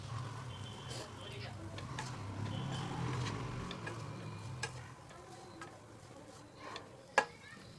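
Sorghum (jowar) flour noodles being stirred and mixed in a pan, giving soft scraping and light ticking sounds at close range with a faint sizzle beneath and a sharp clink near the end; a voice talks over part of it.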